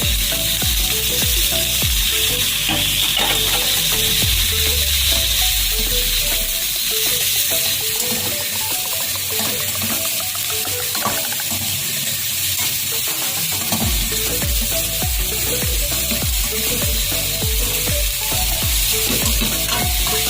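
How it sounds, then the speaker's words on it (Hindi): Chicken frying with capsicum, tomato, onion and carrot gives a steady, close sizzle, with scraping stirs and clinks against the pan throughout. "और 10 मिनट इसको फ्राई करना है।"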